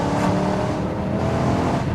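A 449bhp BMW M3 saloon engine droning steadily while driving, a continuous, fairly loud rumble with a layered hum and no voices.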